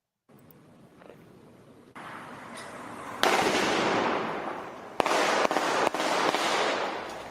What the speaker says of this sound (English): just the gunshots from this surveillance video that NBC 10 obtained